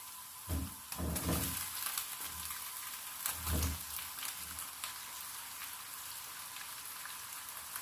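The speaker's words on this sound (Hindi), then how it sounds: "चिकन को भूनेंगे जब तक इसका कलर चेंज हो जाए" Chicken fries in a pan with garlic and ginger, a soft continuous sizzle, a few louder bursts of crackle and stirring near the start.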